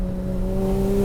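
A modified, very loud Porsche Cayman engine holding a steady, droning rev with strong tonal harmonics, close and continuous for about a second.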